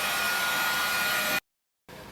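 A hot-air heat gun blows across a snowboard base with a loud, steady rushing hiss. It cuts out for about half a second, then starts again.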